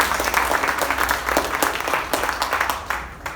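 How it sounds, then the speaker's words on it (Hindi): An audience at a comedy laughter show claps loudly together, a thick and continuous burst of applause from many people that holds steady for a few seconds before easing off at the end. "तो एक बार जोरदार तालियों की निकाल के बता दो"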